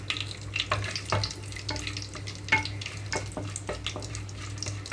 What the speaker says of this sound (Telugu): ఆయిల్ అంతా హీట్ అయిన తర్వాత బిర్యానీ ఆకు వేస్తున్నాను అలాగే తీసుకున్న మసాలాలు ఇవన్నీ వేసేసుకుంటున్నాను